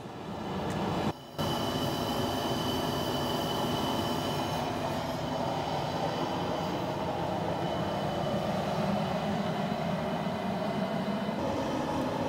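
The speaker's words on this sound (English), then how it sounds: "Fire up the gas burner, set it to maximum and let it start heating up." Gas burner at maximum heating a still for making cornflakes whiskey, a steady, close roaring rumble of flame that runs continuously with only a brief dip near the start.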